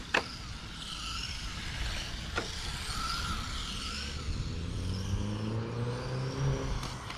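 A WL Toys 1:24 RC car lying on its side is driven at full throttle, its small electric motor whining in rising and falling revs with a few sharp clicks, close and steady, with no speech.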